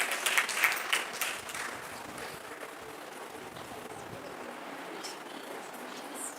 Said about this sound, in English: a big round of applause to Ms. Arzina ma'am.